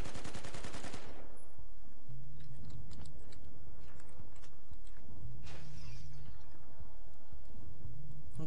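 Battlefield Hardline multiplayer beta gameplay with a rapid burst of automatic gunfire up front, then scattered shots, debris crackle and a dull blast, moderately loud with a low rhythmic engine-like drone underneath and no talk.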